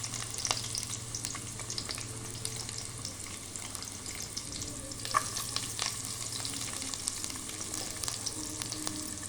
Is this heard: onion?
yes